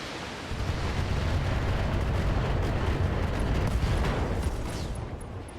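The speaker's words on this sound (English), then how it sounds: "Ooh, LRM explosion." A long-range missile explosion in the BattleTech game, heard as a loud, sustained rumbling blast that fills nearly the whole stretch after a brief quiet start, with no talk over it.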